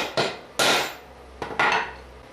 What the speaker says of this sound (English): take a punch of some sort and line it up on my 3 lines that I drew on the center line as well as I can and give it a tap